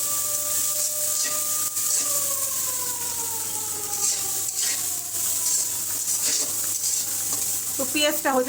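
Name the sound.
onions frying in a wok for greens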